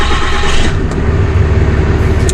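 A RAM 6.7 Cummins diesel truck engine, just after both fuel filters were changed, turns over and fires up, a loud steady low rumble close by with no talking.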